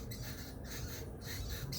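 Birds calling from trees at sunset in The Gambia, faint squawks and chirps blended into a quiet, hissy outdoor background with no talking.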